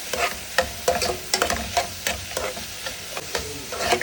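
Half-fried chicken pieces sizzle with soy sauce in a pan over a medium gas flame for a South Indian pepper chicken, a spatula scraping and tapping in quick irregular strokes over a steady frying hiss.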